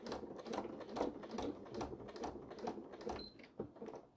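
A sewing machine stitches a bag at a small stitch setting, producing a quiet, rapid rhythmic chatter of needle strokes in short even bursts, close and faint.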